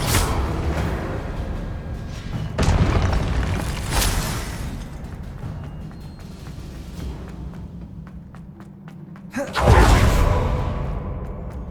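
Confringo spell blasts in the video game Hogwarts Legacy, heavy booming explosions with whooshing bursts, two big impacts separated by rumbling combat noise, loud and close.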